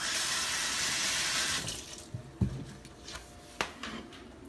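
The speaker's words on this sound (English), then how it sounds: "let me rinse my hand" Tap water runs steadily while a hand is rinsed at a kitchen sink during layered salad prep. The stream is loud and continuous, then cuts off and leaves a few scattered clinks and knocks.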